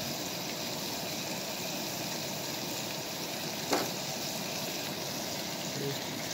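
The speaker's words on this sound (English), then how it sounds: "Alright, so I've got my meat on to cook." Meat cooks in oil at a winter campsite in the LBJ Grasslands, a steady, close sizzling hiss that runs unbroken with one brief knock partway through and no talking.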